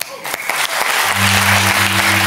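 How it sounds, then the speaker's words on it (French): Studio audience applause on a French television talk show, a dense burst of clapping that builds after a brief pause and holds steady and loud, with a sustained tonal hum underneath. "ça s'applaudit."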